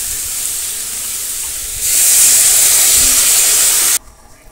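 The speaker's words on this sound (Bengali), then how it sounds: "এই পর্যায়ে আমি জল অ্যাড করে দিয়ে দেবো।" Water poured into a hot pan of sautéed potato and pointed gourd gives a loud, steady steam hiss that swells after a couple of seconds and then cuts off abruptly, with no talking.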